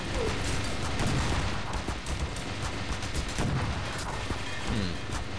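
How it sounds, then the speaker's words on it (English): A double-barrel shotgun in the shooter game E.Y.E. Divine Cybermancy, fired with both barrels at once, sounds as heavy booming blasts amid a dense, loud, chaotic din of battle gunfire and explosions. "I currently have this shotgun switched to shoot both the bullets at the same time."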